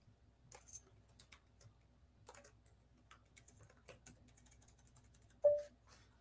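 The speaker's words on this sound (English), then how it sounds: "Transferring between the Mac keyboard and this PC keyboard is a pain in the butt." Scattered keystrokes on a PC computer keyboard tap out irregular short bursts, quiet and close, ending with one louder clack.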